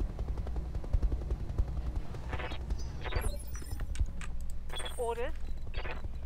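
Mech weapons fire in the Roguetech battle game, with repeated sharp bursts and rattling shots over a constant rumbling bed, while a voice talks over the action.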